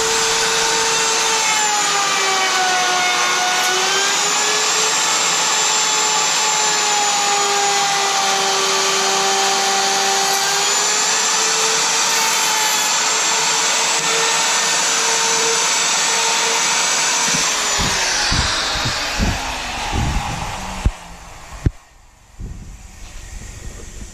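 A router bores a 1-inch deep hole into a wooden table top, a loud steady high-pitched whine with cutting noise that runs continuously, then winds down with scattered clunks and handling sounds near the end.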